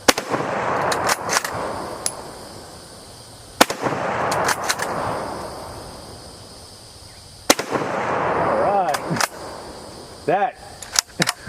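A Mosin rifle fires several sharp, loud shots outdoors, spaced irregularly, each followed by a long rolling echo, with a voice speaking between shots.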